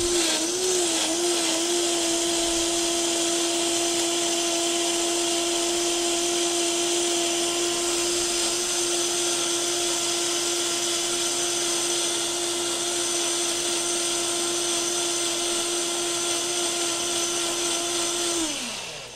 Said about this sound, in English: This is actually a great blender.